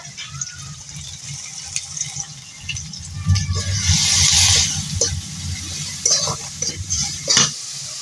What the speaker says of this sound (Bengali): এবার আমি সব মশলাগুলো একসাথে দিয়ে দেবো